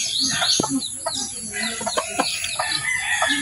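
Hens cluck steadily at close range while they are being fed, with overlapping chatter from several birds and a rooster-like call rising now and then.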